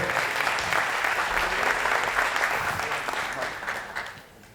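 Steady applause from a crowd at a college science competition, dense and continuous, holding strong for several seconds before gradually thinning out at the end.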